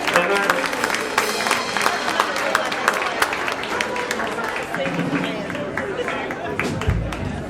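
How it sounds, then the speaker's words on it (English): Audience at a jazz club tribute applauds musicians taking the stage, sustained dense clapping with crowd chatter throughout, fading slightly near the end. "Let them have a round of applause."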